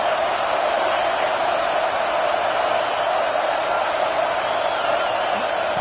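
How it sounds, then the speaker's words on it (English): A large stadium crowd at an American football game against Tennessee roars steadily, a dense wash of cheering and noise that stays loud and unbroken throughout. "Listen to the crowd energy here in the early going."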